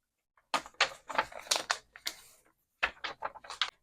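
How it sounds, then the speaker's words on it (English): A paper sheet creased and folded in both directions for a scrapbook mini album, giving close, crisp crackles and sharp rustling taps in two clusters separated by a brief pause; no talking. "I will again fold this both ways"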